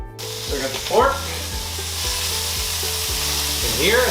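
Pork sizzles steadily in a hot frying pan while a utensil scrapes and stirs in repeated strokes, cooking a HelloFresh meal kit.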